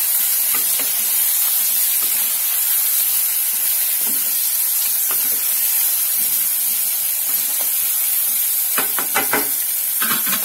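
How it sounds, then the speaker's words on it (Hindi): Eggplant tipped into spice masala frying in a pan, giving a loud, steady sizzle and hiss with scattered stirring clatters and scrapes, louder toward the end. "ये थोड़ा मसाला भून गया है, अब हम इसमें बैगन डाल देते हैं।"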